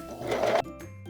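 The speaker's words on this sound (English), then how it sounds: "we're going to serge our lace band together at the side seam" A serger stitches the side seam of a lace bralette band in one short, quick whirring burst that stops abruptly, leaving quiet room tone afterward.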